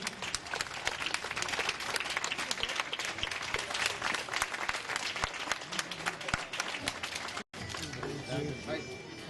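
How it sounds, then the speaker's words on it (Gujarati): Loud, sustained applause from an audience at a child adoption ceremony in Bhavnagar, dense clapping filling the room without a break until a brief cut near the end, then continuing more softly. "જોરદાર તાળીઓથી વધાવીએ।"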